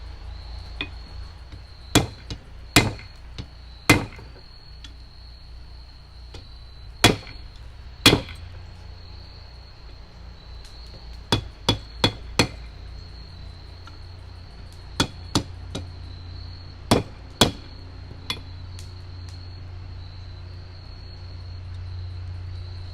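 Blacksmith hammering hot metal ram's head horns during forging practice, with sharp, ringing blows in irregular clusters over a steady background hum, close and loud with quiet gaps between strikes.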